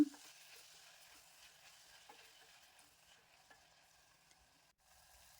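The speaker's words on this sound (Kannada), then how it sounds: "ಟೊಮೊಟೊ ಚೆನ್ನಾಗಿ ಸಾಫ್ಟ್ ಆಗೋ ತನಕ ಚೆನ್ನಾಗಿ ಫ್ರೈ ಮಾಡ್ಕೊಳ್ಳೋಣ" Tomatoes with salt fry gently in a pan, a faint, steady low sizzle with occasional soft stirring taps, quiet and without any talking.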